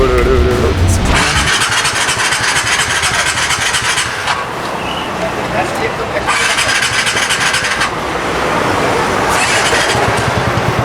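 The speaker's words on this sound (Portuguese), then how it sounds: "nem consigo ligar a moto" A motorcycle scooter engine cranks and sputters loudly in repeated tries, surging and dropping without settling into a steady idle.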